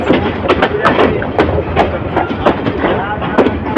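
Balaka Commuter train rolling into Sreepur railway station, a loud close rumble with regular clattering thumps of wheels over rail joints, continuing steadily throughout with no talk.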